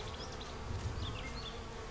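Honey bees hum in a steady, even drone at a double-deep hive in South Carolina, heard close up and faint, alone with no voices.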